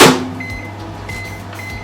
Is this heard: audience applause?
no